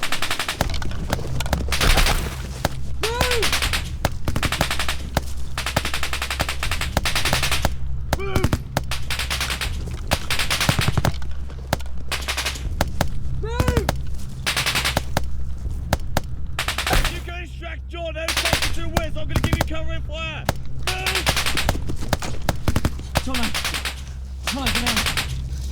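Sustained machine gun cover fire in a war-movie battle scene, dense bursts of rapid shots repeating over a low rumbling bed, with occasional voices breaking through.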